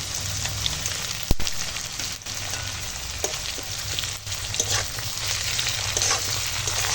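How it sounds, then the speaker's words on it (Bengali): Ground spice paste of cumin, ginger and radhuni hitting hot oil with dried red chillies and bay leaves, a steady close sizzle and crackle with occasional stirring scrapes and sharp pops. "ফোড়নের সঙ্গে একটু ভাজবো এখন দিয়ে দেব এই বেটে রাখা মশলা"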